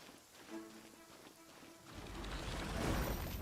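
Rain falls in the video game Genshin Impact, a soft steady patter that swells into a louder, denser hiss partway through.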